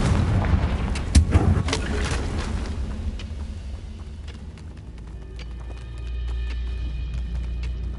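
Confringo fire blast spell in Hogwarts Legacy, a cluster of sharp explosive bursts up front that fade into a lower crackling, ringing aftermath, with no one talking.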